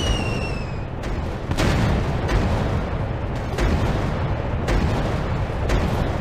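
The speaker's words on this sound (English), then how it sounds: "Dropping bomb. Enemy fighter eliminated. Bomb away." Bomb explosions in a video game: dense, continuous rumbling booms with repeated heavy blasts roughly every second, loud and close, filling the whole stretch.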